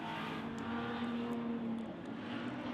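A race car engine on a speedway drones steadily at a distance, with a sustained tonal whine over a broad roar.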